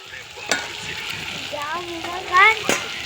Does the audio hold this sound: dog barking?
no